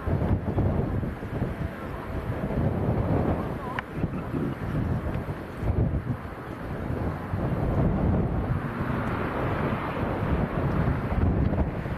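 Strong 40 mph wind buffets a microphone at Leeds Bradford Airport, a loud, continuous rumbling roar with gusty surges, steady throughout.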